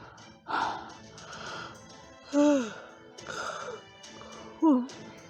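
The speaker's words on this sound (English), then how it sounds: "Sorry, I can't seem to stop yawning." Drawn-out yawns, each rising and falling in a long breathy moan, come several times at a close, moderate level between stretches of quiet voices talking.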